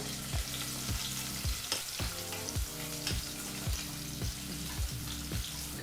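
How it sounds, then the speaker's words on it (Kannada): Cut onion frying in oil in a pan over a medium flame for a vegetable pulao, a steady loud sizzle with regular rhythmic scrapes of a stirring spoon, close up with no voices. "ಮೀಡಿಯಮ್ ಫ್ಲೇಮ್ನಲ್ಲೇ ಎರಡು ನಿಮಿಷ ಈರುಳ್ಳಿನ ಚೆನ್ನಾಗಿ ಫ್ರೈ ಮಾಡ್ಕೋಬೇಕು"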